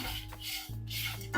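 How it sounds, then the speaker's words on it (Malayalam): Spices for a roasted coriander-leaf dish scrape and rattle in a pan as they are stirred and roasted, with a few metallic clinks of a spoon against the pan. "ഇതെല്ലാം കൂടെ നല്ലൊന്ന്"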